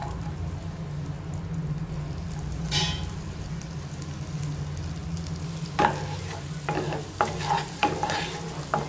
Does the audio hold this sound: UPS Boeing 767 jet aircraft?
no